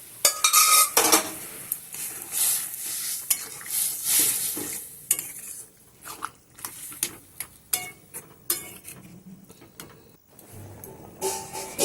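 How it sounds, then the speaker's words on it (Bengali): A spoon scrapes and clinks against a pan while boiled peas are stirred into spice masala for ghugni, with uneven bursts of metallic scraping and a faint sizzle close to the mic. "দিয়ে ভালো করে মটরটার সাথে মশলাটার সাথে ভালো করে মিশিয়ে নেবো"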